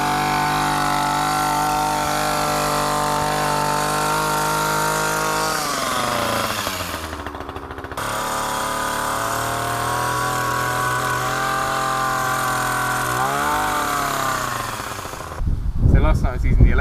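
Petrol hedge trimmer cutting a hedge: a loud, continuous two-stroke engine buzz with the pitch dropping and rising as the blades bite into the hedge, close and sustained throughout.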